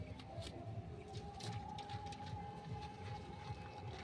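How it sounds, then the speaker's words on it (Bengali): A female pigeon gives soft, low, repeated cooing at close range, set against a steady background hum with a faint higher tone running through it. "এটা মাদা পায়রা।"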